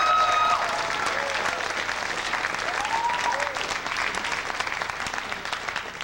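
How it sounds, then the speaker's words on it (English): Studio audience applause on a public-access talk show, a steady, dense wash of clapping that fills the whole stretch at fairly loud level, with faint crowd noise and no speech over it. "Let's have a warm round of applause for Dr."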